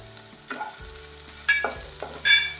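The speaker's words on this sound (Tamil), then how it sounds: "இந்த பொட்டுக்கடலை கொஞ்சம் பொரிஞ்சு வரட்டும். அது வரைக்கும் வதக்கிடலாம்." Onions and roasted gram (pottukadalai) sauté in a pan. Each stroke of a spatula sends up a loud bright sizzle, and a low hum and scraping run between the strokes.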